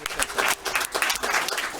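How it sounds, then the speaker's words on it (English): Audience applause for Joey at a Murray City meeting, a brief burst of close, lively clapping from a modest crowd with uneven pulses of hands. "big applause for Joey"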